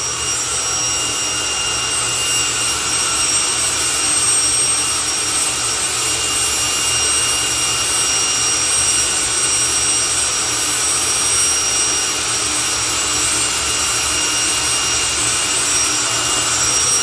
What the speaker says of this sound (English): So, Fire Force number 3, the Jet Funny Car.